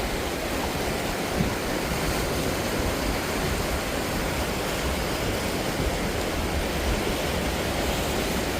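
Sea waves washing over a rocky, stone-strewn beach make a steady, loud, broadband roar and rush that runs unbroken and even throughout, with no voices.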